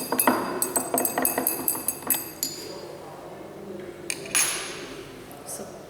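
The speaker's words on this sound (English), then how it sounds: "Stir this carefully with a glass jar." A glass rod stirs 1 ml of reagent in a glass container during a sulphate limit test, making a quick run of close, bright clinks and taps that thins into softer contact noise.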